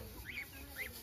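A mother duck near her ducklings in Kumirmari village in the Sundarbans gives two short, faint, nasal calls about half a second apart over quiet outdoor background.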